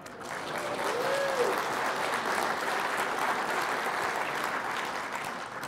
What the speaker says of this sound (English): this you really should clap for, Ed,